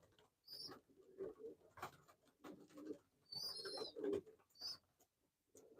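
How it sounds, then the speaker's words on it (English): Pigeons in a loft cooing and murmuring in repeated close bursts, with wing flutters and soft rustling between calls, fairly loud and near, no talk. "These are my pigeons. My passion."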